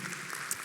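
Short burst of congregation applause during a church family service sermon, a quick wash of clapping in a large hall with no speech over it.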